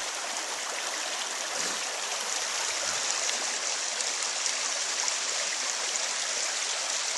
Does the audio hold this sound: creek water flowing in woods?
yes